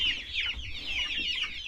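Ameraucana chickens, the blue-egg layers, cluck and chatter continuously at close range in a farmyard coop, with soft overlapping calls.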